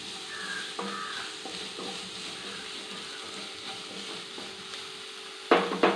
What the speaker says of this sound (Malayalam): ഇഞ്ചിയൊക്കെ ഒന്ന് ചെറുതായിട്ടൊന്ന് മൂക്കട്ടെ പച്ചമുളക് ക്യാരറ്റ് ഇതെല്ലാം കൂടെ ഇടുക